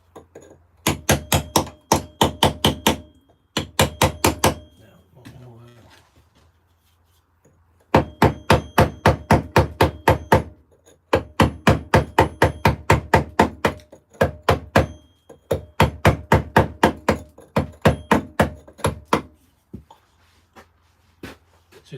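Sharp hammer blows ring out on stone during a carving session, struck in quick rhythmic bursts of about a dozen hits each, separated by short pauses, close and loud with no talking.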